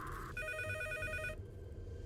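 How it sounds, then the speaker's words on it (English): A phone rings late at night with a bright electronic ringtone. One clear burst of warbling tones sounds alone and close, then cuts off abruptly, leaving quiet room tone. "I realize my phone is ringing"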